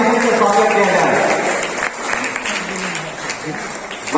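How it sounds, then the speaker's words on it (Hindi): An indoor audience at a prize distribution programme breaks into loud, dense clapping that fades over a few seconds, with voices mixed in. "जोरदार ताली से स्वागत किया जाए।"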